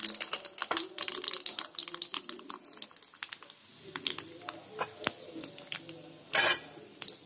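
Mustard seeds for a dhokla tempering splutter and pop in hot oil as a dense, irregular crackle of sharp little bursts. The sound stays close and fairly quiet, with a couple of louder sizzling flares.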